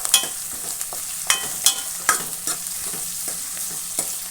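Carrots frying in oil with onion are stirred with a spoon, giving a steady close sizzle broken by regular scraping knocks against the pan roughly every half second.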